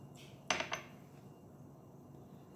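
A spoon clinks against a bowl while sugar is stirred into warm milk: a few quick, light metallic taps, faint and close, with no voice.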